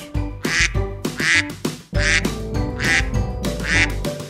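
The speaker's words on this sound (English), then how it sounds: "Duck." A duck quacks loudly and close by, five or six nasal calls in an uneven rhythm.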